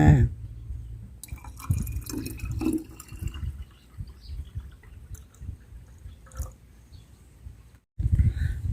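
Liquid is poured into one litre of plain water in a container, quiet splashing and dripping trickles with a few clunks, ending in a brief louder gush.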